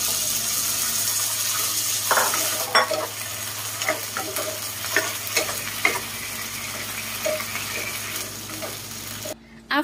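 Pork liver fries in a pan for menudo, a bright close sizzle with repeated stirring scrapes and clicks, fading toward the end.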